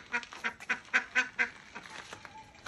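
A duck in a village setting quacks in a quick run of about seven loud, evenly spaced calls, then trails off into fainter, scattered quacks.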